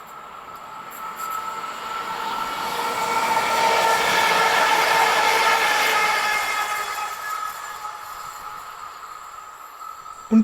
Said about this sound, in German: Und so ganz nebenbei schiebt sich auch schon der nächste ICE ins Bild.